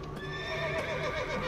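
Roach the horse lets out a clear whinny in The Witcher 3, a bright, wavering neigh rising and falling over about a second, with faint hoof clip-clop beneath and no talking.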